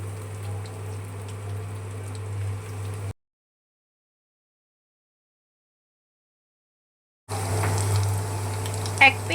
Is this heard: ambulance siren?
no